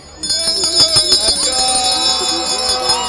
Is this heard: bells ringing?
yes